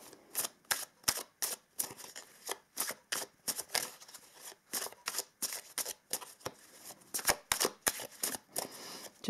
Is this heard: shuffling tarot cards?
yes